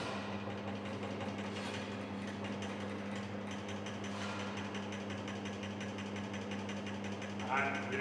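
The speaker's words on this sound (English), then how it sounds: "We run the machine." A fatigue testing machine cycles a test specimen in a lab, giving a steady mechanical whir with a constant hum and a fine, rapid ratcheting tick throughout, moderately quiet and even.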